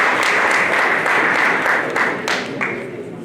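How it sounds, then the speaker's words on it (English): An audience at a ConnectEO and CONTRALESA event claps steadily for Matikale, a dense round of applause that swells briefly and then tapers off. "Let's give Matikale a big round of applause."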